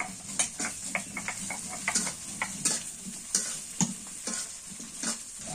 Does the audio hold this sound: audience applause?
no